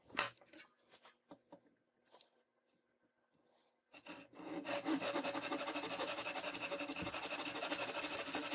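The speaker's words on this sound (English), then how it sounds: "So now I'll take it back to my bench clamp and saw it off." A hand saw cuts through a carved wooden ferro rod handle held in a bench clamp. A few scattered taps and knocks come first, then a close, loud, continuous rhythmic rasp of sawing strokes fills the second half.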